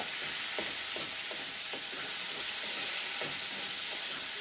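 Spice paste frying in a pan for a Bengali banana stem dish with prawns, a steady sizzling hiss with soft, regular scrapes of a spoon being stirred through it, close up and with no talking.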